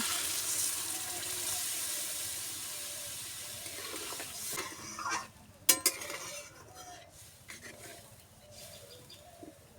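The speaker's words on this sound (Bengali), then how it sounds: "কষানো হয়ে গেছে এবার জল দিয়ে দেব" Water is poured into a hot pan of sautéed potato curry with cardamom. A soft hiss and splash are followed by a few close clatters of utensils against the pan, all fairly faint.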